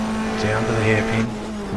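Race cars of the 1994 GTR2 Australian Manufacturers Championship crossing the finish line at Eastern Creek, engine drone with a brief rising pass and tire noise lasting under two seconds, mixed with crowd or commentary sound.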